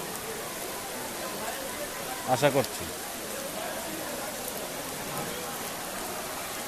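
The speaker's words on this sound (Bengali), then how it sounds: "উল্লেখযোগ্য তেমন কোনো বৃষ্টি না, তবে বৃষ্টি হচ্ছে" Light rain falls steadily outdoors as an even soft patter, with a short spoken phrase and a brief voice near the middle.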